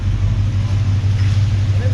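The engine of a restored 1972 Chevrolet C10 pickup truck idles with a steady low rumble, close and even, without revving.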